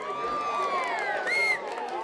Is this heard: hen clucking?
no